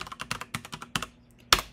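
Quick bursts of keystrokes on a computer keyboard while renaming a file, a close, irregular patter of clicks ending in one louder tap, with no talk.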